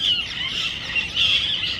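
Flock of parrots perched in a leafy jamun tree, squawking and screeching continuously in a shrill, overlapping chorus at moderate distance, with no talk.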